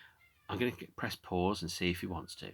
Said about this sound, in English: You can probably hear a cat meowing there.